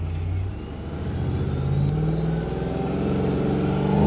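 A supercharged 106 Toyota Hilux in two-wheel drive drones and revs steadily while driving in circles. The low engine rumble rises and falls slightly and stays continuous and fairly close, with no voices.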